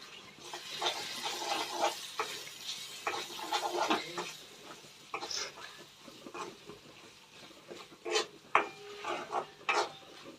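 A spoon scrapes and stirs through cauliflower curry in a pan as chilli powder is mixed in, giving soft irregular rasping strokes with a faint sizzle underneath, quiet and close, with no voices.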